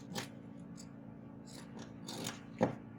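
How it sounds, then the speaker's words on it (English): Scissors snip through blouse fabric while cutting out a back armhole, giving a few soft crisp cuts spread across the moment and two sharper snips near the end, close and fairly quiet. "I'll cut out my back armhole first before cutting the front"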